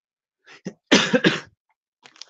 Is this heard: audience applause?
no